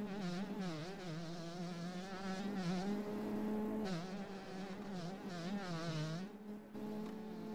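A motocross bike engine in the MX Bikes racing game revs continuously at high pitch, its tone rising and dipping with throttle and gear changes through a Loretta Lynn's regional race, loud and steady throughout.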